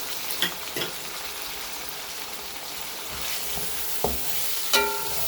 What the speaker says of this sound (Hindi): अब हम इसमें टमाटर डाल देंगे।